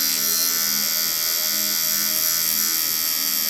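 A tattoo machine buzzes in a steady, continuous high-pitched electric drone close to the microphone, with no talking.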